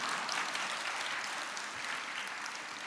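A church congregation claps in steady, dense applause throughout, moderately loud and continuous, with no talk over it.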